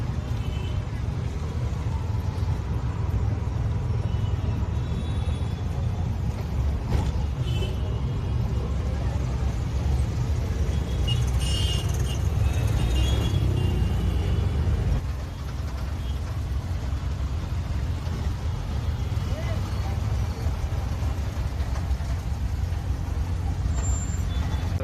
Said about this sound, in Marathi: ट्रॅफिक बघताय तुम्ही, प्रचंड ट्रॅफिक आहे